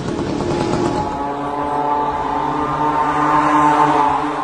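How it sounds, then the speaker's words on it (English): A small cheap Chinese moped or scooter engine used to power a drone drones with a steady buzzing hum and harmonic tones, rising slightly toward the end, with no talk. "This is a small moped engine, or scooter engine sourced from China, at a cheap price. Let us look at how it sounds like."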